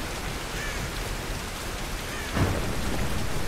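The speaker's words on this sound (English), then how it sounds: "Oh, the storm is getting worse." Steady, heavy rain hisses through a thunderstorm in the Tomb Raider game on PC, and a deep rumble of thunder swells about two-thirds of the way through, with no voices.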